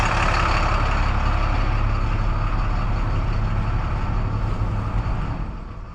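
A bus without air conditioning idles with a loud, steady diesel rumble close by, holding even before fading slightly toward the end.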